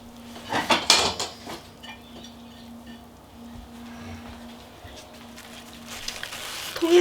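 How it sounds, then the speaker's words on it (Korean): A plate sized to fit is pressed down onto dongchimi radish kimchi in its container, giving a few clinks and clattering knocks of dish against rim near the start, then quieter handling scrapes. A voice speaks over it. "통에 맞는 이 접시를 이렇게 딱 눌러줘요"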